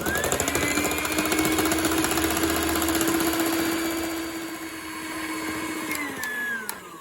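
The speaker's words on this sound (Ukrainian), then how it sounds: "Вливаю сироп потрошечки маленькими невеличкими порціями і збиваю." An electric mixer whips egg whites into a pumpkin-coffee marshmallow mass while hot syrup is poured in small portions, a steady loud whirring drone whose pitch sags slightly near the end, with a few clinks at the close.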